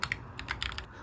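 Quick, muted keystrokes tap on an office keyboard padded with sound-absorbing foam, forming a soft, dense patter that is close and fairly quiet.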